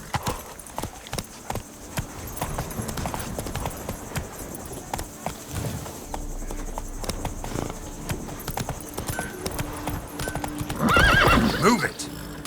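A horse in the video game The Witcher 3, with rhythmic hoof clip-clops throughout, a loud neigh near the end, and someone speaking short commands over it.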